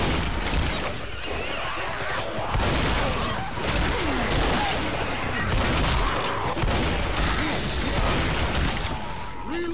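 Dense, continuous gunfire from the zombie shooter Left 4 Dead, a loud barrage of overlapping shots with booming impacts that keeps going for the whole stretch, mixed with game noise.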